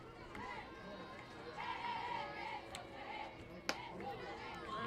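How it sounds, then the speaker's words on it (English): RedHawk softball fans in the fifth inning make a low, steady crowd murmur with scattered shouts and a sharp clap, distant and diffuse beneath a commentator's voice. "You hear the RedHawk faithful getting into it here in the 5th inning."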